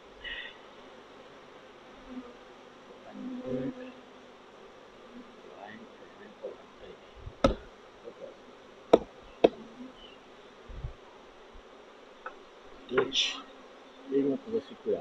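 Honeybees buzzing around a hive being shaken, a steady low drone, with scattered clicks and knocks and some faint background voices.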